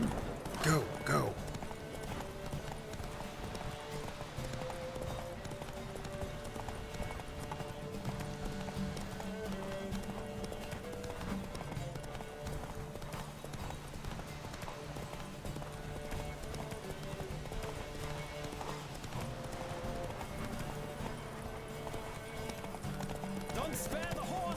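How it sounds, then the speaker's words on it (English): Rapid, steady hoofbeats of a horse galloping in a race in The Witcher 3 continue throughout, with music and game voices speaking over the pounding rhythm. "Don't spare the horse!"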